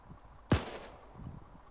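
A single sharp gunshot from a gun in ArmA 3, one loud crack with a short decaying tail, heard alone against quiet background ambience.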